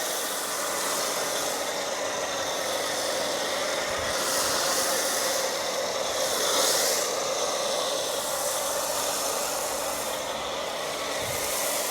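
Steady, continuous broadband hiss of a foam cannon spraying a Mercedes GLC 63 S during a wash, running without pause, with slight surges in intensity, no voices.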